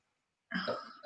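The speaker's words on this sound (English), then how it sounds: "Oh, big burp." A single short, throaty burp from a person, close and fairly loud, following a moment of silence.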